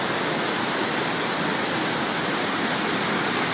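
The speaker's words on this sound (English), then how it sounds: "This is the sound of the waterfall." A waterfall near the Smoky Mountains roars as a steady, dense hiss of falling water, loud and unbroken throughout with no voices.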